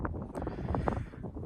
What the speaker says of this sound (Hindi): और हवा चल रही है यहाँ पर एकदम झमाझम ठंडी